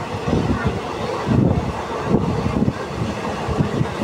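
A passenger train rolls toward Lonavla, heard from on board as a steady, close, broadband rumble with swelling surges and a wash of wind noise throughout.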